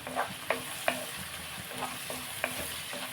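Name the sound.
tempering sizzling and being stirred in pan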